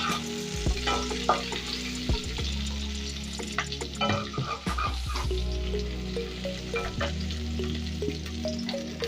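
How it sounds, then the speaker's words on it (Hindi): Capsicum fries for a paneer curry in a hot pan, giving a continuous sizzle broken by scraping stirs and clinks of a spoon against the pan. "कैप्सिकम को टिके ना भल फ्राए कर देबा।"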